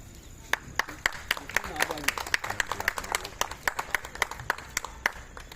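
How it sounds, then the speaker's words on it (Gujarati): A small group of old school friends gathered at a home claps in a steady rhythm, sharp close beats repeating about twice a second, with voices talking underneath. "તાળી પાડવાના ઘણા બધા ફાયદા છે"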